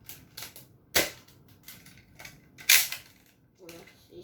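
Toy Nerf gun firing foam darts, giving a few sharp snapping pops spaced apart, two stronger than the rest, close by with faint talk between shots.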